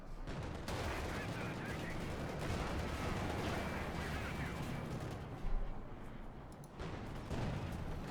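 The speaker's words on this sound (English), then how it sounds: "Bit of shooting there." Continuous battlefield gunfire in the video game Company of Heroes 2, with tanks engaged: dense, rumbling rattles and booms layered throughout, fairly distant and steady, with occasional louder thumps.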